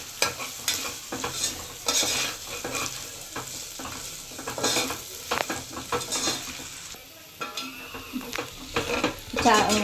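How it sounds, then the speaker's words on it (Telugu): Ginger garlic paste frying in oil in a pan, with a spoon stirring and scraping: close, uneven sizzling broken by clinks and bursts of stirring, with no talking. "అల్లం వెల్లుల్లి పేస్ట్ కూడా కొంచెం లైట్గా ఆయిల్లో ఫ్రై అయితే మంచి ఫ్లేవర్ వస్తుంది మనకు"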